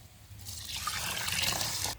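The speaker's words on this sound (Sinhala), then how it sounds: "දැන් අපි බතට අවශ්‍ය ප්‍රමාණයට වතුර එකතු කරගමු." Water is poured onto washed rice in a rice cooker pot, a soft trickle that swells into a steady, splashing pour lasting about two seconds.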